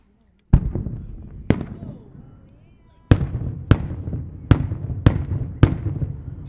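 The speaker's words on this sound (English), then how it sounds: "First break is 5 timed reports. Those are 5 timed bangs." A six-inch Maltese-style multi-break cylinder shell opens with sharp booming reports: an initial bang, a second, then after a pause a run of five evenly timed bangs about half a second apart, each trailing into a rumbling echo outdoors.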